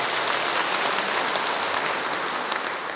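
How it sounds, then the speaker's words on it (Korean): Audience applause at a Bareun Salgi movement lecture given by the provincial governor, a dense steady wash of many hands clapping together that holds evenly for the whole stretch. "박수 한번 부탁드리겠습니다."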